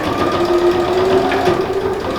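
A sewing machine stitches the fabric lining of a cloth lab-coat holder, its motor giving a steady, close, even whir for a couple of seconds with no talk over it.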